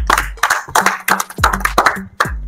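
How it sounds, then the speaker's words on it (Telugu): Hands clapping in bursts during a funny party game, about six sharp, close claps spaced unevenly across a couple of seconds, with brief bits of voice between them. "క్లాప్స్ కొట్టాలి"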